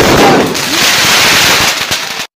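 Fireworks rockets bursting at a New Year celebration, a dense, loud crackle of rapid pops over a roaring wash of noise, cutting off abruptly near the end.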